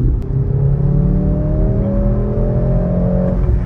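A 2023 Mercedes-AMG C63 S E-Performance engine drones loudly and rises in pitch as it accelerates, a deep continuous rumble heard close up throughout, without speech.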